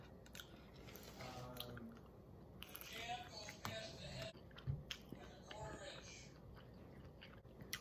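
Someone chewing food during a taste test, with close, soft, squishy mouth sounds and crunchy bites, plus a few faint murmured words in between.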